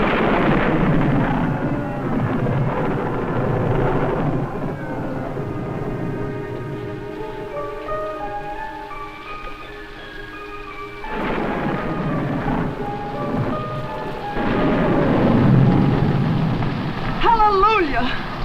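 Thunderstorm with steady heavy rain and rolling thunder, close and loud throughout, with orchestral music playing underneath.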